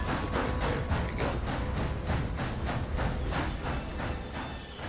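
A steam train in Red Dead Redemption grinds under full brake, a loud, steady rumble with rhythmic wheel clatter and a thin high squeal of wheels rising toward the end.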